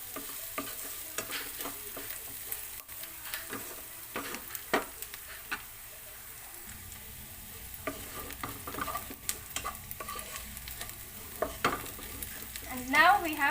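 Onion cooking over a low flame in a pan for okra masala, a steady gentle sizzle running throughout with intermittent stirring scrapes and light taps of a spoon, close and moderately quiet, no voices.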